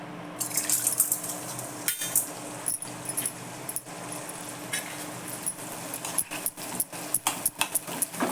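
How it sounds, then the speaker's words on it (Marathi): Edible gum fries a little at a time in ghee in a kadhai over a lowered flame, making laddoos, with a soft bubbling hiss broken by repeated metallic clinks and scrapes of a utensil against the pan. "आता मी थोडा थोडा करून डिंक तळून घेते"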